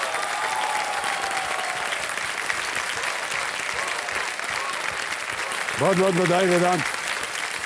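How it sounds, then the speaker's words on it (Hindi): Studio audience applause on a televised Hindi quiz show, a steady dense roar of clapping running throughout while a host speaks over it, with a brief musical sting near the end. "तालियां बज जाए इनके लिए,"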